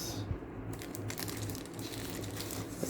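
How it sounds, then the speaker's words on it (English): Plastic goodie bag from a 1/24 Fujimi Ford GT40 race car model kit being cut open, a steady close crinkling and crunching of thin plastic with a few sharper snips, no voices. "Let me just cut it open."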